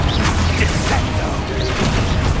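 Descendo spell cast in Hogwarts Legacy, a short loud slam of magical force with whooshing and crashing amid steady game action noise, no speech.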